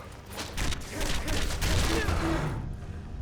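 A dual-cast fire spell in Skyrim roars as a sustained, loud rushing blast of flame over several seconds, with scattered impact thuds and no speech.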